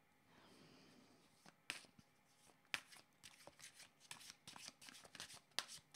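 Tarot cards riffled and shuffled by hand, a series of crisp, close flicks and slaps with irregular bursts over quiet room tone.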